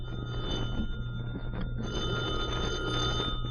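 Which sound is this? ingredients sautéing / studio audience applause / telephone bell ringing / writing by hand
telephone bell ringing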